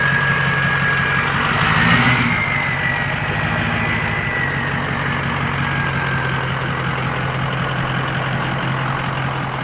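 A diesel truck engine idles close by with a loud, steady low rumble and a thin whistle riding on top. The sound holds even throughout.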